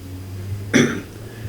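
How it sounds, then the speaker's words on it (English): A single short, sharp cough, close to the mic, breaking a quiet background with a low steady hum. "I still have this cough from that COVID crap"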